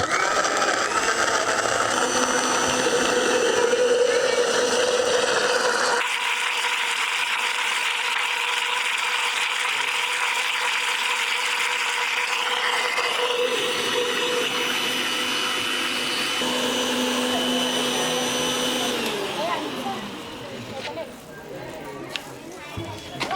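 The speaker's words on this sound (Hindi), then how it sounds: "अब इसको अच्छी तरह फिर से एक बार ब्लेंड करेंगे।" A kitchen blender whirs continuously, churning a strawberry milkshake with added ice cubes; the motor pitch shifts between speeds and grinding phases over about twenty seconds before winding down, loud and close.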